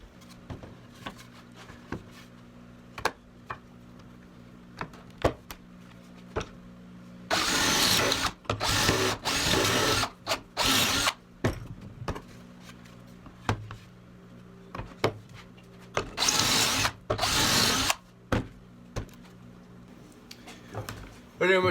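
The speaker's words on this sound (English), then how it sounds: "we can set our stock in here and drill some pocket holes which allow us to set it inside of our box" A drill boring pocket holes into wooden stock held in a Kreg-style jig while building a wooden kitchen box, several loud whirring bursts of a few seconds each separated by quieter handling noise.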